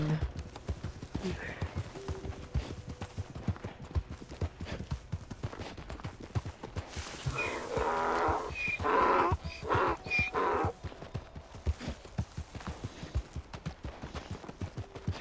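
Donkeys race in the Western roleplay game Red Dead RP, their hooves making a fast, steady clip-clop throughout, with a louder flurry of effects in the middle and players talking over it.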